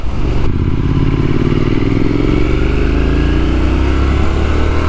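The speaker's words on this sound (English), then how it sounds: "Listen to that bike, man." Loud, close revving from a Triumph Scrambler 900 motorcycle, the engine note rising smoothly and continuously over a few seconds with a gritty, rumbling exhaust tone.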